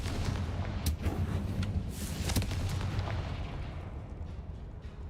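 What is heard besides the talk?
structure collapsing in the video game Hogwarts Legacy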